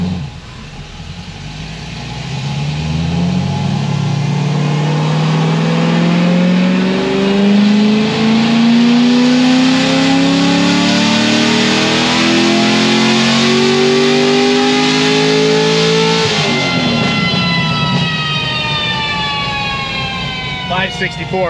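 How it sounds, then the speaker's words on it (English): LS7 V8 engine in a car on a dyno winding up through a long, loud, rising full-throttle pull before cutting off sharply, then falling away; voices are heard faintly around it. "What you doing, Garrett? Go."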